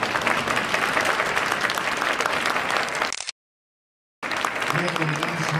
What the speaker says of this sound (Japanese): 皆様激励を込めてどうぞ盛大な拍手をお送りしましょう。